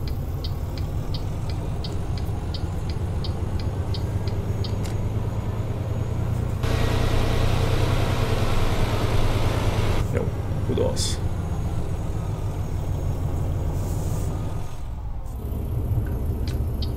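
A DAF XT truck engine in Euro Truck Simulator 2 drones steadily at low pitch throughout, with a faint rapid ticking early on and a brief louder surge partway through, while someone talks over it.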